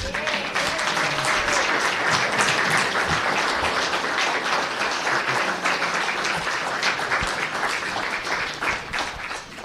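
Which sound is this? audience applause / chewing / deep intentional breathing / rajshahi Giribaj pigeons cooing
audience applause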